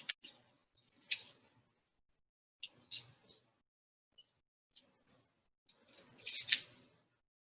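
Half an onion being peeled by hand: dry papery skin crackles and tears in short, close bursts separated by quiet pauses, with a voice speaking softly in between.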